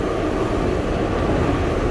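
An MTA subway train car in motion, giving a steady, loud rumbling roar with constant rattle and clatter of the car and no pauses throughout.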